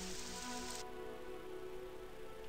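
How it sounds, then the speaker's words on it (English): Video game rain falling steadily, a soft even patter with a brighter hiss at the start that drops away, while a low tonal game hum runs underneath and no one talks. "Now it's raining."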